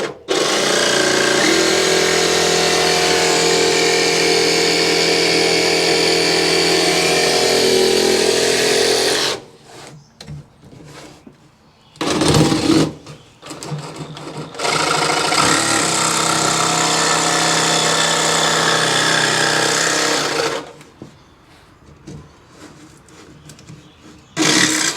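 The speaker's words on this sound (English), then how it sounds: "This is a jigsaw I bought a couple of years ago." Jigsaw cutting an opening for a light switch on a house job site: loud, steady buzzing runs in two long bursts with short quieter gaps and brief clatter between.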